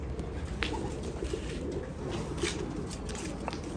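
Basrawi pigeons coo softly on a rooftop, a steady low murmuring of calls running throughout with a couple of brighter chirps mixed in, moderately distant and without speech.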